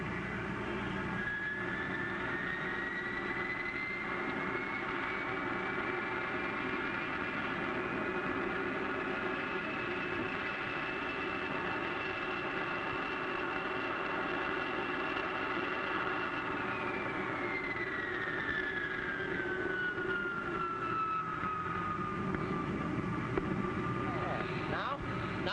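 An airplane engine drones steadily and continuously through a slow roll, its pitch rising gently and then falling away, with a hum that stays even and moderately loud.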